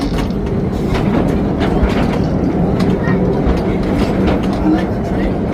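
The Calico Mine Ride train at Knott's Berry Farm rumbling along its track, a steady loud clatter of wheels with rhythmic clicks and a low rolling roar, continuous throughout.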